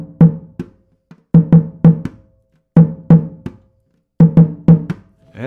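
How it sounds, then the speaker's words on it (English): A dobra drum in Ara Ketu samba style plays its first rhythm, loud close resonant hits in repeating groups of two and three with short gaps, alone without talk. "The first rhythm that dobra giuma is playing is actually almost the same like the third surdo in Rio de Janeiro."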